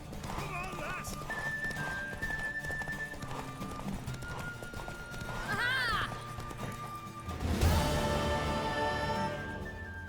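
Hooves clip-clop at a run in The Witcher 3: Wild Hunt, joined by a horse's whinny and music with game-style effects; a voice calls out briefly.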